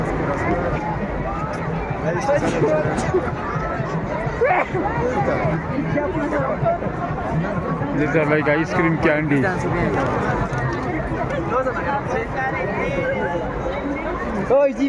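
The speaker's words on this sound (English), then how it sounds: "What a crowd it is" Dense crowd chatter fills a busy Halloween street celebration in La Paz, Bolivia, a steady close hubbub of many overlapping voices with a nearby person talking over it.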